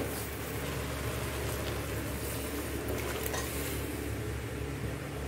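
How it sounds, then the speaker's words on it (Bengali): Moong dal and vegetable curry sizzles steadily in a pan as it fries with spices, a dense continuous crackle and hiss held at an even, close level with no talk throughout. "সব মশলা দিয়ে কষিয়ে নিচ্ছি"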